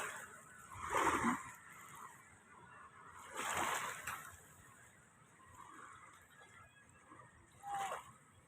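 Someone wades through knee-deep seawater near a boat being tested before dawn, with three or four distinct splashing surges separated by quieter lapping water, fairly close.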